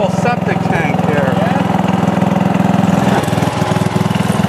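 Old Sears Companion garden tractor engine running steadily at close range after seven years of sitting, a continuous loud mechanical drone with a lawn-mower-like rumble and faint background voices.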